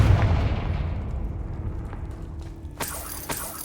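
A Confringo blasting spell goes off in Hogwarts Legacy, a broad low rumble fading over a few seconds, then a sharper crack-like burst near the end.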